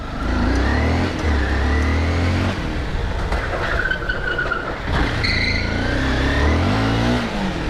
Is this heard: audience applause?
no